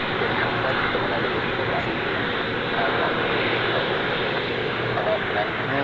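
A loud, broad jet engine roar from an aircraft at Ted Stevens International Airport in Alaska, steady and close, filling the whole stretch with dense rushing noise.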